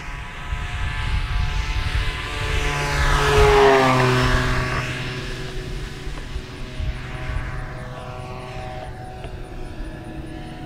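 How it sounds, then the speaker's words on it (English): Banana Hobby LX Models B-25 scale RC plane with a 79-inch wingspan makes a low pass at full throttle, its twin engine drone swelling loud as it sweeps close overhead, then fading into the distance. "Bring it by at full throttle, nice and low."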